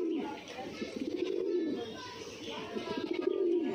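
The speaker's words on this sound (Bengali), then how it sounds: "খুব সুন্দর করে ডাকতেছে" Domestic pigeons, including gola and giribaj birds, coo in soft, repeated rolling calls, close by and continuous, over a faint background hum.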